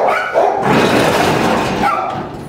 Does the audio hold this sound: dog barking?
yes